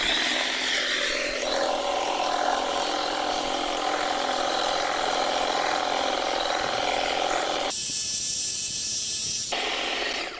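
A GTM HT56/560BL cordless battery hedge trimmer converted into a grass mower cutting hay, giving a steady high buzzing motor and blade drone that runs continuously and close, with a brief change in tone near the end.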